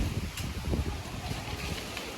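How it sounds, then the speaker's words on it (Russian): Strong gusty wind blowing across a chicken coop, a steady close rumble with buffeting against the microphone and a rushing noisy hiss throughout. "У нас сегодня очень сильный ветер."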